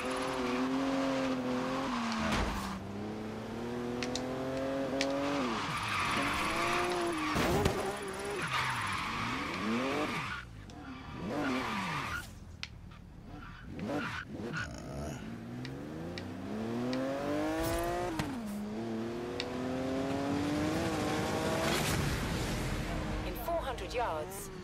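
A car in Forza Horizon 3, Hot Wheels expansion, revving and shifting through rising and falling engine pitch, with tire squeal and skidding during attempted e-brake drifts, someone talking over it.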